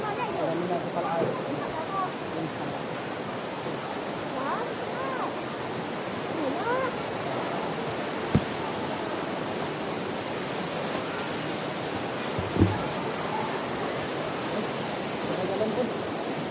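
Roadside waterfall at Ranchan Recreation Park, Serian, Sarawak, pouring with an unbroken, even hiss and rush of water. A couple of faint knocks and quiet voices sit under the constant flow.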